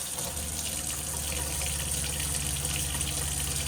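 Water runs steadily from a faucet in a 2020 Forest River Wildwood X-Lite travel trailer, a constant hissing gush that stays even and unbroken throughout, with no voices.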